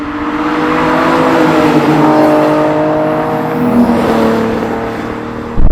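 A race car, a 350 driven by Bob, roars past while shifting up through the gears, its steady engine drone swelling and then dropping in pitch as it goes by, ending with a sudden loud burst.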